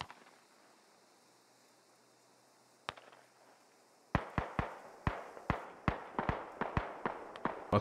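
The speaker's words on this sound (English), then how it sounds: "Artillery creeping coming here" Artillery barrage in the Squad military shooter: one isolated blast, then a rapid series of about a dozen sharp explosions in close succession, loud and clear with no talking.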